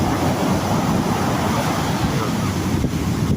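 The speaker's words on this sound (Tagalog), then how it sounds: "Maganda yung beach nila dito. Yung lakas ng alon, malamig" Strong ocean waves surge onto a beach in Infanta, Quezon, a loud, continuous roar of churning surf with heavy wind buffeting close to the microphone throughout.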